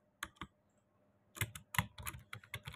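Keys clacking on a computer keyboard as watermark text is entered for a Photoshop project: a couple of isolated keystrokes, a pause, then a quicker run of taps, all close and fairly quiet with no talking.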